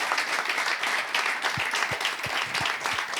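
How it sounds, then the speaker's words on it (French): Audience applause at a restaurant event, a continuous patter of many hands clapping for a few seconds, fairly close and steady, with no speech over it. "On applaudit pour le gourmet"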